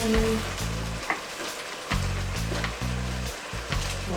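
Fish frying in a pan for efo riro gives a steady sizzle broken by rhythmic stirring and scraping strokes, loud and close.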